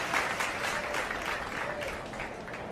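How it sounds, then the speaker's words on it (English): A crowd applauding at a Pirates vs Dodgers baseball game, steady clapping at moderate distance that fades slightly toward the end. "So you got to give him a round of applause too."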